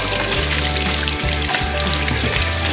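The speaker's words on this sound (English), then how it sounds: "run them under some cold water." Cold water gushes steadily from a kitchen tap over hands, a dense, loud, continuous rush with a low hum beneath it.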